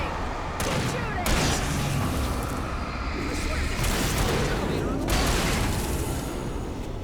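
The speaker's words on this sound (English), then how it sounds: "Shooting! Shooting! Shooting!" Shooting in the Alan Wake video game, with sustained loud gunfire and booming blasts rolling on across several seconds while voices talk over it.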